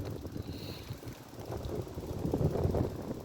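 Steady wind buffets the microphone during an e-bike ride to the supermarket on a chilly afternoon, a continuous low rumble that swells slightly toward the end, with no talking.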